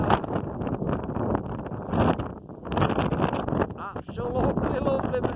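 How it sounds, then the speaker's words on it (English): Gusty wind buffets the microphone during a walk along waterfalls in the Peak District, a loud, rough roar rising and falling in waves with no clear breaks. "it's got really windy now"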